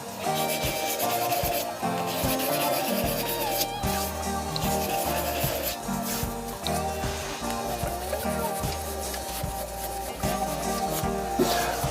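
Steady hand sanding of a shaving brush handle with sandpaper on the second grit, a continuous close rubbing and scraping that runs without pause and without talk.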